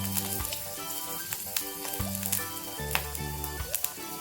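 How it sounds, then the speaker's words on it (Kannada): Green chillies and ginger sizzle in a little oil in a pan, a close, continuous frying hiss broken by small pops and crackles, with no voices. "ಸ್ವಲ್ಪ ಲೈಟಾಗಿ ಹಸಿಗೊಂಡು ಹೋಗೋವರೆಗೆ ಫ್ರೈ ಮಾಡ್ಕೊಳ್ಳೋಣ."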